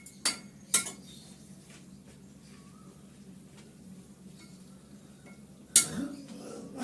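A metal lid clanks onto a pan of kanchkola kofta after cooking, a couple of sharp clinks near the start, a quiet stretch, then another loud clatter of metal on metal close by.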